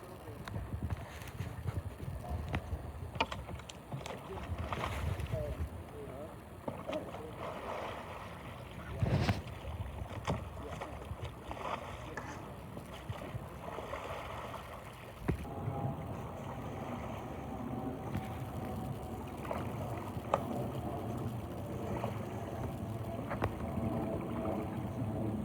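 Kayak paddling and a roll on open water near shore, with steady broadband splashing and water noise throughout, rising in bursts as the paddle strikes, over a continuous wash of wind and waves.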